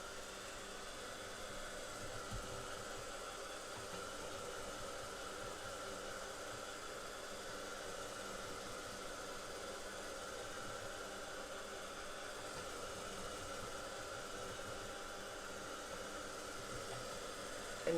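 A craft heat tool blows hot air to dry distress oxide ink, giving a steady, even whirring hiss that holds without a break for the whole stretch, close and alone.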